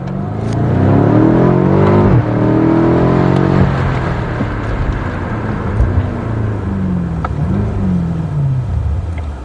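A BMW M5 F90 engine revs hard close by, its exhaust note climbing and falling through deep loud sweeps with a continuous rumble and faint crackles between revs.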